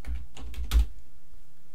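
A handful of quick keystrokes on a computer keyboard at a Raspberry Pi terminal, close and fairly soft, with one sharper tap in the middle and then a quiet pause.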